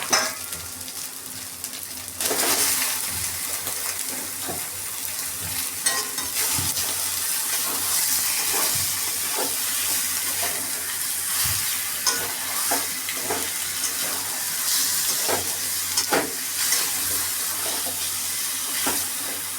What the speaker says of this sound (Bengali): মশলাটা আমার কষানো হয়ে গেছে, তেল ছেড়ে দিয়েছে। এখন এর মধ্যে চিকেনগুলো দিয়ে দেবো।